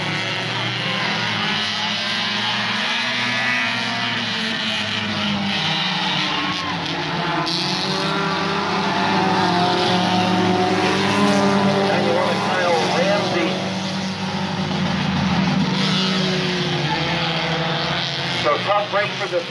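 Compact heat race cars roar around the oval at Midvale Speedway, a loud, continuous engine drone that rises and falls as the pack passes, with an announcer calling the race over it.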